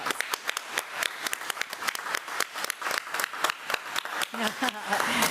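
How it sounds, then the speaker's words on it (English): A crowd at a committee-of-the-whole government meeting applauds with dense, steady clapping that carries on for several seconds, loud and close, without pause. "let's give Mr. Wilson another round of applause"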